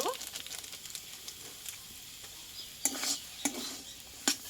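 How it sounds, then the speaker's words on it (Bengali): Red amaranth greens are stirred in a frying pan after a sprinkle of garam masala powder, giving a soft low sizzle with a few sharp utensil scrapes near the end, close by and without speech. "এবার নাড়াচাড়া করে নেবো"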